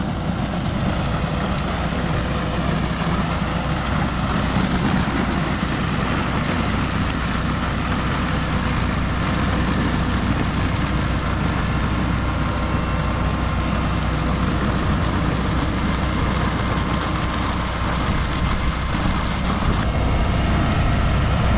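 A Fendt 824 tractor working with a Nitro 575 RS manure spreader, spreading solid dairy waste, produces a constant heavy diesel drone with steady low rumble, nearby and unbroken.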